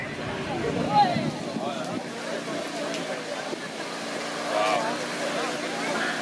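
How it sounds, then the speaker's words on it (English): Argo amphibious vehicle churning through a mud pit at a mudding event, a muffled engine drone under crowd noise, with people talking and cheering over it. "He's taking his Argo."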